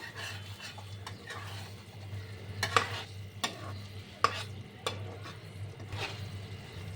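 A spoon stirs eggplant and bori curry in a pan with soft scraping and a few sharp clinks against the metal, scattered over a low steady hum and quiet simmering.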